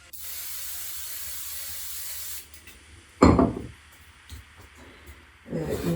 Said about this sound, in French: je rince toujours à la bombe à eau